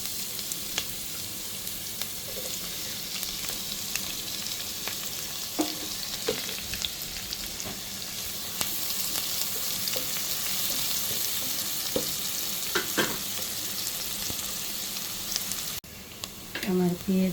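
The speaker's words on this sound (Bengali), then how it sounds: "তেল গরম হয়ে আসলে আমি পেঁয়াজ কুচি দিয়ে দেব।" Chopped onions fry in hot oil in a pan for a Bengali fish-head muri ghonto, a steady close sizzle with occasional stirring clinks and scrapes throughout.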